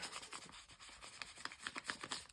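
Gesso is rubbed onto collage paper by hand in a faint, close, dry scratchy brushing with quick repeated strokes in an uneven rhythm, heard alone without speech.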